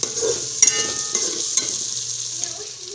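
Garlic and chicken fry in a pan with a bright, continuous sizzle, punctuated by a few sharp stirring clicks and scrapes close by.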